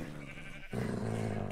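A Minecraft sheep bleats in a Bed Wars match. Two short, wavering bleats come through close and clear with no talk over them.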